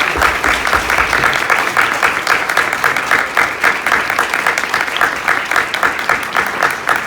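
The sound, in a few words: audience applause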